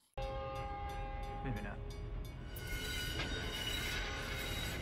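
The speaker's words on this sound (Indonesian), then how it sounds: "hampir saja dia tewas ditabrak kereta" A train thunders along railway tracks in a film scene, with a horn blaring and loud wheel rumble and squeal throughout, while a voice briefly speaks over it.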